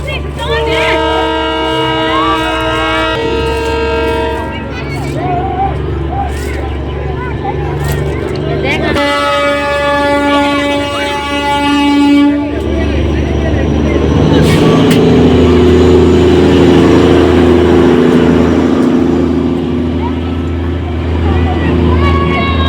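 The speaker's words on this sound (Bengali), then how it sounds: "টয় ট্রেন আসছে এই সামনে দিয়ে পেরিয়ে যাবে" Darjeeling toy train rolling past in the hills with a loud, steady mechanical rumble and repeated horn-like tonal blasts, mixed with background crowd noise.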